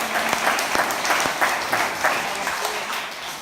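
A church congregation applauds together in worship, a steady wash of clapping with sharper individual claps standing out at a moderate distance.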